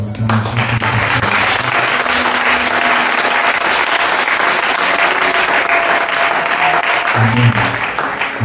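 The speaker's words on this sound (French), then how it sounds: "Est-ce qu'on peut donner encore une acclamation pour le pasteur?" A church congregation applauds their pastor, a dense, loud wash of clapping and crowd noise sustained throughout, with a few voices calling out underneath.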